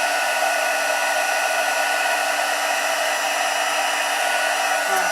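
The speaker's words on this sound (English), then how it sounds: "I love heat embossing." A heat embossing tool blows hot air in a continuous, loud, steady whir with a high fan whine, close to the listener and uninterrupted throughout, with no talk.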